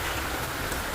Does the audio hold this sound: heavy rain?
yes